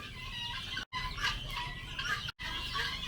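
Guinea fowl on a poultry farm call in harsh, raspy bursts, loud and close, with a couple of sharp breaks between runs of calling and no voices.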